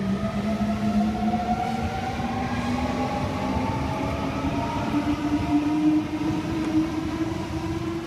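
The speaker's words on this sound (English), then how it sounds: "We've got M6 now departing platform 2 for a Leppington service, stopping Leppington only." Sydney Trains M-set electric train departing a platform, its motor whine climbing steadily in pitch over a constant loud rumble of wheels on rails, heard close and alone.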